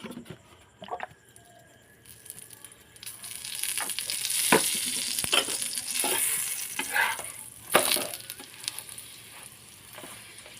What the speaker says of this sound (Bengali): এবার আমি একটু তেল দিয়ে দেবো।